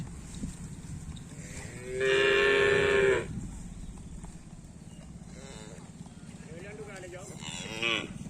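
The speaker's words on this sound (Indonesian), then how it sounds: "Ini sapi yang mana, Pak Sipul?" Cattle mooing nearby, one long, loud, tonal moo in the middle, followed by fainter lowing calls and bleat-like sounds over a steady outdoor background rumble.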